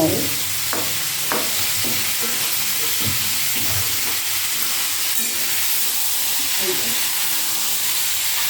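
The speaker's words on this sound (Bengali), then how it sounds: "এরপর সবজিটাকে একটু ভেজে নেবা" Vegetables frying in a pan during home cooking, a steady sizzle with scattered stirring scrapes and clatter, fairly close and continuous with no speech over it.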